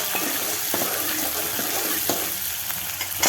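Ingredients sauté in a hot pan in a home kitchen, producing a steady close sizzle with a few soft clinks of stirring, continuous and fairly loud, and nobody speaks.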